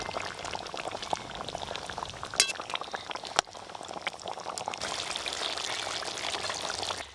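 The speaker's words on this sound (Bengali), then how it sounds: "মাছের জন্য গ্রেভি বেশ ভালো করে ফুটে গেছে। ভেজে রাখা সব মাছগুলো দিয়ে দেব।" Fried rohu fish pieces go into bubbling curry gravy in a pan, a close pouring and sizzling splash with a couple of sharp clinks, settling into steady bubbling.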